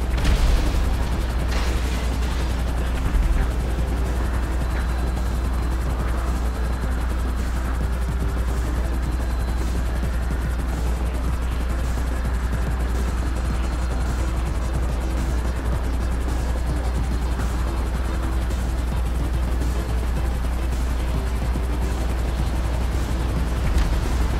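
Continuous loud rotor roar of helicopters in a video game's Cayo Perico setup mission fills the whole stretch, with dull booms and bursts of game gunfire scattered throughout.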